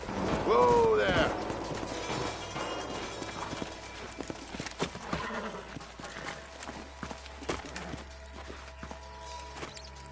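A horse in the Western video game Red Dead Redemption whinnies briefly at the start, then its hooves clip-clop in an uneven, moderately close rhythm as it slows and settles.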